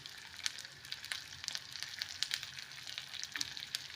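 Omena, small silver cyprinid fish, frying in a generous amount of oil, giving a steady, fairly quiet crackling sizzle with frequent small pops spread across the whole stretch.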